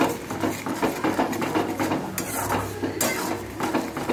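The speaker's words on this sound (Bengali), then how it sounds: "নেড়ে দিলাম কিছুটা।" A spoon stirs salt and turmeric around a pan, giving a continuous run of close scraping and clinking of utensil against cookware with no voices.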